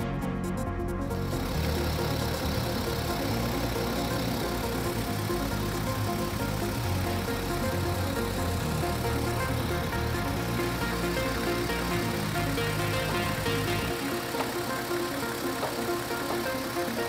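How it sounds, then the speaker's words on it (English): A car engine runs steadily while an 8-speed ZF 8HP automatic transmission is shifted through its gears during an oil change, giving a loud, constant, dense mechanical drone with no talk. "With the engine running, shift through the entire range of gears."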